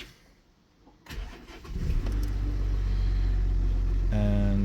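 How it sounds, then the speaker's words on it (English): An Audi Q7's ignition is switched on and its engine cranks and catches, settling into a loud, steady low idle rumble with a tonal whine joining near the end. "So the problem I've got is you turn on the ignition"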